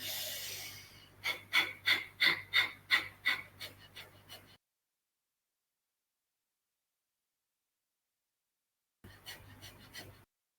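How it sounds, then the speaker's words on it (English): Rapid, rhythmic forceful exhales of breath of fire pranayama during a kundalini yoga session, about a dozen sharp puffs close to the microphone, then silence, then another quicker burst. "And breathing in the breath of fire."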